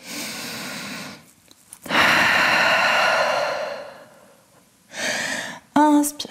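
Deep, audible breaths during a yoga flow in downward dog: a long inhale and exhale, close and airy, with a brief voice near the end.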